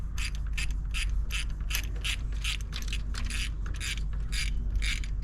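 A ratchet clicks rapidly in a steady rhythm while spark plugs are removed from a Ford tractor engine, close up over a constant low background hum.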